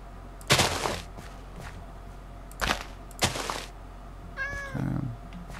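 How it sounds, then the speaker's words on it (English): Cat meowing in the Minecraft video game: a single short, rising meow near the end, after several brief bursts of noise and clatter, heard fairly close and moderately loud. "Oh, there's a cat in there."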